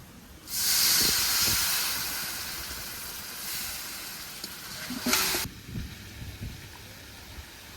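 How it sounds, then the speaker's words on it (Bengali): Loud sizzle as a splash of water hits hot oil and ground spices, turmeric among them, while cooking potato curry; a sharp hiss bursts up, then slowly fades to a steady crackle with soft clinks. "হলুদ গুঁড়ি এবার একটু জল দিয়ে দেবো"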